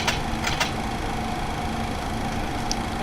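IXEG 737 jet engines idling in the X-Plane 10 flight simulator, a steady, loud droning whine with a constant tonal hum and a few faint clicks, no talk.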